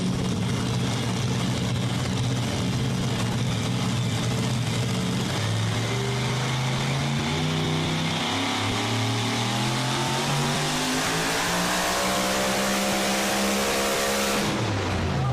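A supercharged 1997 Chevy pulling truck roars at full throttle during a truck pull at a county fair, its loud engine note rising steadily in pitch for several seconds before abruptly cutting off near the end.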